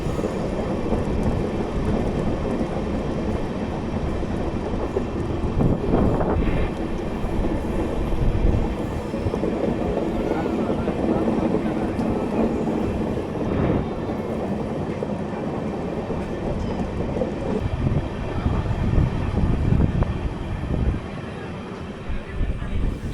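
Kolkata–Sairang Express running near Azimganj after crossing a bridge, its carriages rumbling loudly and continuously with rolling wheel noise and rattling from on board, with voices now and then.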